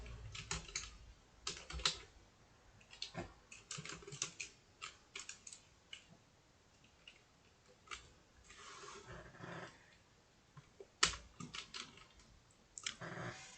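Keys clatter on a computer keyboard while code is entered, in irregular bursts of taps separated by short pauses, fairly close and quiet.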